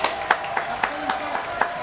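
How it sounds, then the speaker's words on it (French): An audience on a French TV show claps in rhythmic, fairly regular beats, moderately loud and close, with voices murmuring underneath. "Applaudissements pour Fred."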